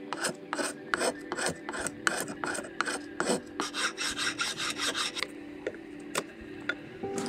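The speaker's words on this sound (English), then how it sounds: "This is a spoke shave." A spokeshave rasps across wood in repeated quick strokes, a steady rhythm of scraping shaves up close, then a few slower isolated strokes toward the end.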